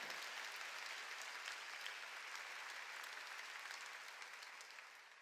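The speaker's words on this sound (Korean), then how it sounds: "박수로 하나님께 영광을" A church congregation applauds together, a dense, steady wash of clapping that fills the room and slowly fades toward the end, with no voices above it.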